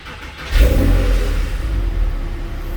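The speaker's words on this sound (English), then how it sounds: "see if I can be quiet here and if we can hear the sound of the car upon startup" A Porsche 997.1 C4S with manual gearbox cranks and fires up, the engine catching with a loud rev and settling into a steady close, deep running note, no talking.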